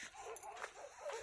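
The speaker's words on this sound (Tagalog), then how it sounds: "Nag-iingay na yung mga aso" Dogs in a desert area of Saudi Arabia whimper and give small yips, faint and somewhat distant, in an uneven scatter of short cries over low background noise.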